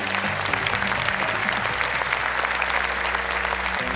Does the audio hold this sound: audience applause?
yes